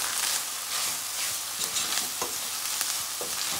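Seasoned ground meat with salt and black pepper is stirred in a hot frying pan, a steady sizzle running throughout with soft scraping and clinking strokes of the spoon at irregular intervals, close and continuous with no talking.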